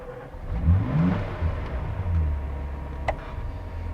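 A classic Ferrari engine turns over and catches, its low mechanical rumble swelling into a couple of revs before settling into a steady idle, close and fairly loud.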